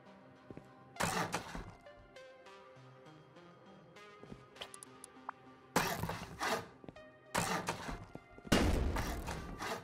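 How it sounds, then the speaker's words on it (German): Explosions in the video game Rust burst out as several loud broadband blasts and thuds, spaced unevenly over about ten seconds, with quieter clattering and game noise between them and no speech. "Alter, diese Explosion."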